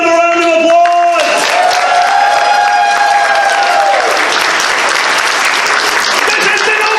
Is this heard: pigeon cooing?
no